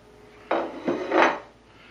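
A beef soup bone is set down into a pan with a short clatter, a hard knock followed by a couple of scraping, rattling contacts lasting about a second.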